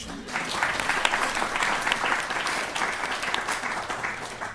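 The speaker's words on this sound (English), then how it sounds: "round of applause." A seated audience at a talk on genetic data collection applauds, with dense, even clapping that holds steady for a few seconds.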